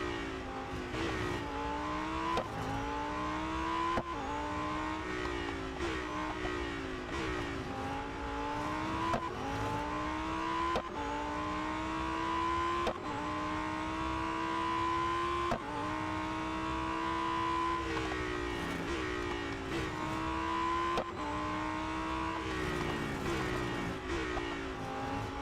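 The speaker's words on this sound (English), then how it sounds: "You can really sling this car around this track." A Lamborghini Huracan STO races around a track in Real Racing 3, its engine note climbing through repeated rising sweeps and dropping at each gear change, loud and continuous with no talk.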